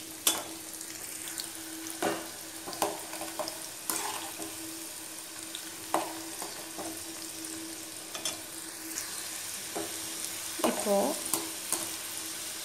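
Bitter gourd pieces fry in oil with a steady bubbling sizzle, punctuated every couple of seconds by a spoon knocking and stirring in the pan, close by with no speech.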